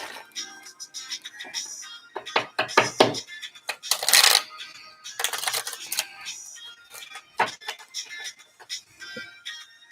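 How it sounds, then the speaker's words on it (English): A deck of tarot cards is shuffled by hand, giving bursts of riffling and crisp card slaps with short pauses between, close and clear with no talk. "So I'm gonna do one last shuffle, and Paris, we're gonna start your reading,"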